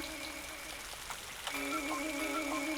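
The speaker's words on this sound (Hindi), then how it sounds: "कितनी बारिश है।" Steady rain falls continuously as a soft, dense hiss with light patter, fairly faint and even throughout, with a faint tonal background underneath and no talking.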